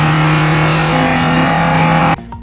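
A turbocharged Foxbody Mustang engine with an on3 turbo kit revs loudly as the throttle blade snaps open, a close, sustained roar whose pitch wavers before cutting off abruptly to quiet.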